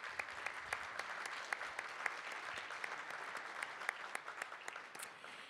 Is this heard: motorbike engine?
no